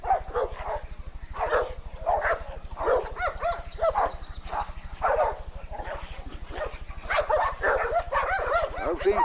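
An American bulldog at bite work in a yard gives repeated barks, growls and whines in bursts over a steady low mechanical hum, fairly close and moderately loud.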